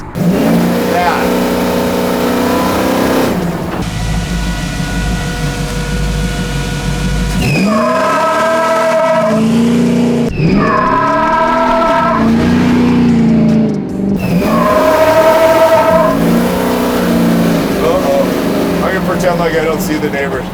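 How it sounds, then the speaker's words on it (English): A Jeep/Chevy Corvair 4x4 engine revs hard in repeated rising and falling surges while the tires spin, loud and close, with voices talking over it. "I can't believe it spins the tires on this thing"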